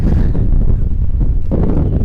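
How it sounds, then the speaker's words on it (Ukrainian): Strong wind near wind turbines by the sea in Gangwon, South Korea, roars and buffets the microphone with a heavy, continuous low rumble, gusting slightly louder near the end. "вітер просто скажений"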